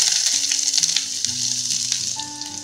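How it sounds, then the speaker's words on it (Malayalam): Chopped onion goes into hot coconut oil where mustard seeds have already popped, a tempering for a Kerala drumstick-leaf thoran. A steady, loud crackling sizzle runs throughout with no talking. "കടുക് പൊട്ടിയിട്ടുണ്ടെങ്കിൽ നമുക്ക് ഇതിനകത്തേക്ക് സവാള,"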